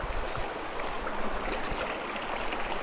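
A clear river flows near Virac, Catanduanes, during a ride on a Suzuki Smash 115R motorcycle, making a continuous broad rush of water that stays steady throughout.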